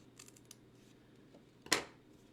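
Card paper is trimmed with scissors, giving one quick crisp snip near the end after a few faint light rustles, close and quiet.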